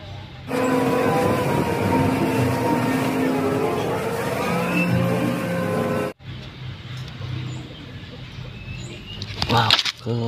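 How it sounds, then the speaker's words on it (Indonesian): A toy loader gives off a loud, wavering motorized whine with tonal sound effects for about six seconds before stopping sharply, followed by quieter background rattling and a brief clatter near the end. "Ini ada loader."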